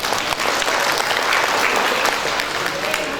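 Sustained applause from a crowd at an inauguration ceremony for a KKSS regional board in Dumai, dense and even for several seconds.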